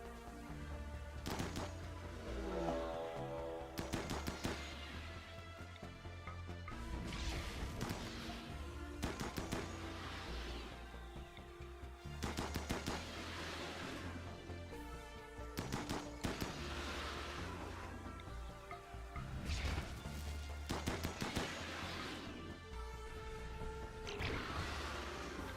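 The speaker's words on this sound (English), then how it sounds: "And start shooting them." Rapid bursts of colonist gunfire in RimWorld, repeated volleys of sharp shots over a steady musical background, with no talking.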